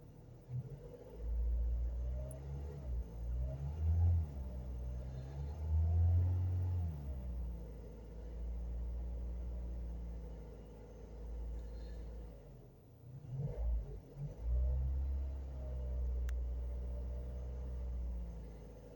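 A Renault Clio MK2 RSI 16V engine is held on the throttle while warming up, a low steady rumble that rises and falls in several revs, loud and close, with no talk.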